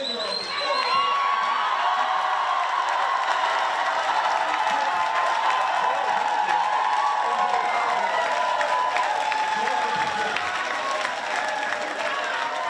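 Fans celebrating the Dutch women's football team winning the European championship final at a studio viewing party, with a dense, loud, sustained roar of cheering, shouting and applause that holds steady from start to finish.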